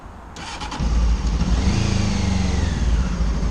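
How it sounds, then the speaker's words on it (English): A car engine cranks and catches, then settles into a steady, loud running rumble with a few clicks at the start. "we can check that fairly easily by starting the engine"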